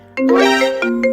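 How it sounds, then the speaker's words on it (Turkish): A cartoon phone ringtone plays a short, bright electronic melody of a few rising tones, loud and close, lasting just over a second with no talk. "Anne, telefonun çalıyor."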